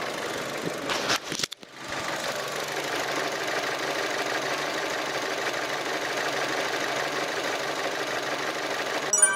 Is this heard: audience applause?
no